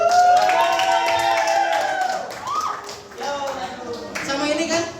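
In a classroom lesson, students clap as classmates are called to the front. Scattered hand-claps and taps sound under steady talking voices, with a brief burst of clapping near the end.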